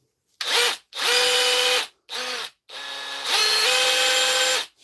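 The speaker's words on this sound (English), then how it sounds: "It's going in ordinary drill mode." Hammer drill running in ordinary drill mode, its hammer action jammed: several close, loud bursts of motor whine, starting and stopping, with the pitch stepping up during the longest run.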